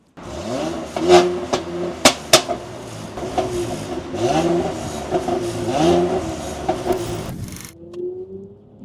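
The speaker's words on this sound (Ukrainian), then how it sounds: "Напевно, вам чутно цей солоденький звук від стрілу з вихлопної труби" A Mercedes-Benz E43 AMG engine revs while driving, with several sharp exhaust pops and bangs cracking over the rumble before it cuts off.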